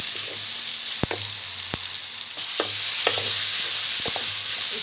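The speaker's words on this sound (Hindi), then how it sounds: "अब इसमें हम कीमा जो है ना वो डाल देंगे। बिस्मिल्लाह, इसको अच्छी तरीके से फ्राई करेंगे।" Minced meat (qeema) fries with onions in a pan, a loud continuous sizzle broken by sharp spatula knocks and scrapes against the pan, close up with no voices.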